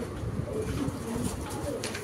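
Fancy pigeons at a market coo in low throaty repeated calls, several birds overlapping close by, with faint chatter in the background.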